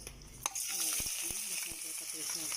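Spices frying in a little oil in a kadai for a white brinjal and potato dish make a soft, fairly quiet sizzle. A sharp click comes early, then light stirring taps follow.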